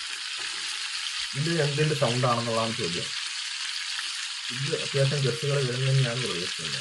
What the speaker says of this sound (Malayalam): ഉപ്പേരി ഉണ്ടാക്കുന്ന ശബ്ദമാണത്